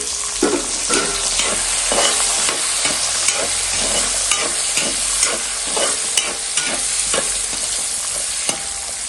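Onions fry with ginger and garlic for a pork fry, a dense steady sizzle close up with regular stirring knocks and scrapes against the pan, loud and with no voices.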